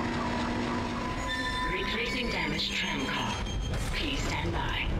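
A tram car moving in the Dead Space video game, heard as a continuous rail rumble with faint metallic squeal. A voice speaks over it throughout.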